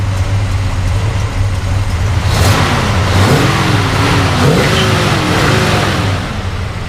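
A 1970 Chevrolet Chevelle SS454 with the LS5 engine and four-speed rumbles at a loud, close idle, then gets a short blip of throttle that rises and falls before settling back to its deep idle.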